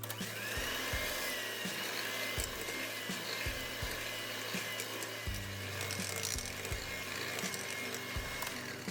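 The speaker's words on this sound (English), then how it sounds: "Beat on low speed for approximately 5 to 6 minutes until the mixture becomes light and fluffy" Electric hand mixer beating sugar and canola oil on low speed in a bowl, a steady quiet motor whir with soft periodic knocks against the bowl and no speech.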